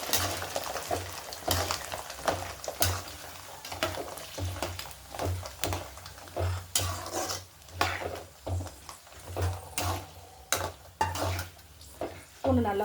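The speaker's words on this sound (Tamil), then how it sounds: "இந்த பூண்டை நல்லா வதக்கணும்." Peeled garlic fries in a pan for pickle, a soft steady sizzle broken by repeated sharp scrapes and clinks of a spoon stirring against the metal pan.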